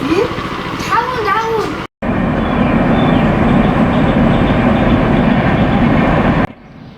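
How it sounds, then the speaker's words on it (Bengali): A train rumbles past in front of a village house, heard from a rooftop, as a loud, steady roar of rolling wagons that holds for several seconds after a brief cut, with birds calling faintly at the start. "বাড়ির সামনে দিয়ে ট্রেন যাচ্ছিল"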